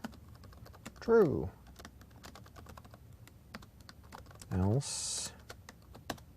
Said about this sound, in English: Still getting used to typing on this laptop keyboard.